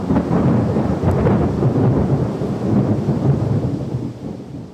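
A deep, loud roll of thunder rumbles on for several seconds amid a storm, with steady rain hissing underneath.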